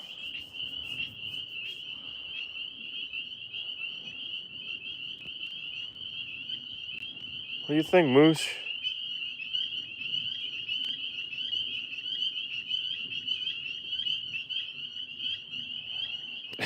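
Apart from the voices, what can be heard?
tree frogs croaking at night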